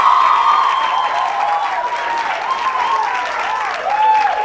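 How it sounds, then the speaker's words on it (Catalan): Studio audience applause for a school quiz team on a television quiz show, sustained clapping and some cheering alongside a bright musical jingle, loud and close throughout. "Un aplaudiment per ells."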